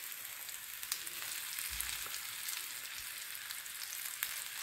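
Fish coated in rava fries slowly on an oiled tava, a soft, even sizzle with a few faint clicks and low bumps, fairly quiet and without voices.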